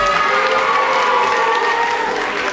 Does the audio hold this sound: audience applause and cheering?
yes